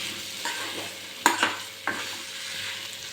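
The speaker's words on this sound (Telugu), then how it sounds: "ఆలు అయితే మొత్తం అంతా ఇలా కలిసేట్టు కలుపుకోవాలి" Soft sizzling continues steadily as potato filling with salt is stirred and mixed in a pan for bun dosa, with a few louder scraping strokes of the spoon standing out.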